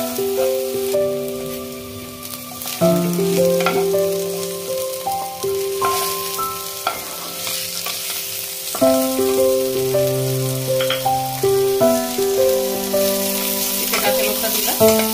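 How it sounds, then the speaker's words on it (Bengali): Chopped onions fry in a pan until lightly browned, with a loud, continuous sizzle and crackle and background music playing over it. "এরপরে পেঁয়াজ কুচানো করে দিচ্ছি। ডিপ করে বেরেস্তা করবো না, একটু ব্রাউনিশ করে ভেজে নেব।"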